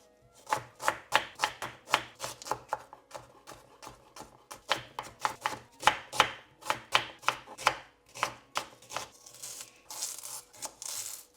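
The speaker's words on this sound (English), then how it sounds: "I'm going to chop all of this finely first" Knife chopping celery and other vegetables finely on a board, a quick run of sharp, even thuds up close with short pauses between bursts.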